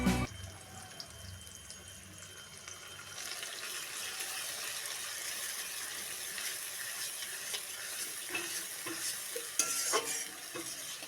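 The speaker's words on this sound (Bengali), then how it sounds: "তারপর দেব বেটে রাখা মশলা" Ground spice paste for a Bengali egg curry fries with tomatoes in a pan, a soft steady sizzle after a brief clatter as it goes in, with stirring scrapes and a faint clink near the end.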